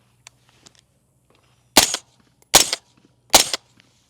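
Three sharp, suppressed reports from a 10.5-inch ADM AR-15 rifle fitted with a suppressor, spaced under a second apart, each a loud close crack with a brief tail, over a quiet outdoor background.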